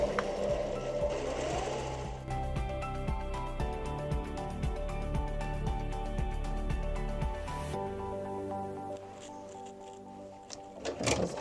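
An embroidery machine stitches a small monogram onto a shirt cuff, with a steady, fast mechanical chatter and rhythmic needle ticks running nearly the whole time before it slows and stops near the end.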